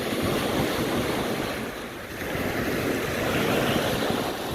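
Sea waves wash onto Phayun beach in Rayong, Thailand, a continuous broad roar of surf with wind buffeting the microphone, swelling and easing slightly as the waves roll in.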